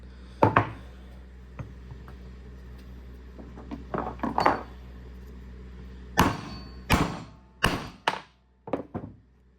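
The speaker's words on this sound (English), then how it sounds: "So I've got this 35 millimeter socket that's kind of the right size. We're going to try and beat it out the backside." Metal-on-metal hammering as a 35 mm socket drives a seal out of the backside of a 1945 Farmall A final drive or PTO housing: sharp, close, ringing blows in loose clusters with pauses between, no talking.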